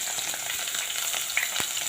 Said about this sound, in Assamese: কেৰাহীত অলপ পিঁয়াজ দি দিছোঁ